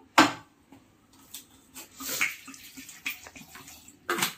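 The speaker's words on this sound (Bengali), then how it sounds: "তাই আমি প্রেসারে একটুখানি জল দেবো।" Water splashes briefly into a pressure cooker while Bengali-style barbati with prawn paste is prepared, with a sharp pour at the start, a softer trickle and clatter afterward, and another short splash near the end, close and fairly loud.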